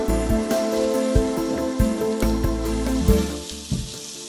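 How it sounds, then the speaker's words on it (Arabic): Onions and then garlic frying in hot oil for a Gulf-style fish mutabbaq make a steady, close sizzle that runs for the whole clip, with no one talking. "بعد ما سخن معي الزيت بننزل البصل"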